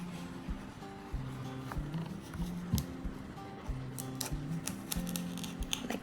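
A knife cuts a halved carrot into thin slices on a board, a series of crisp, irregular taps and clicks close by, with faint background noise.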